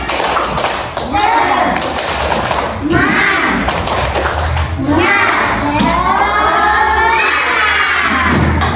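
A classroom of children at an Islamic primary school perform a rhythmic group clapping chant, loud and close, with shouted sung lines and patterned claps and thumps running throughout under lively overlapping voices.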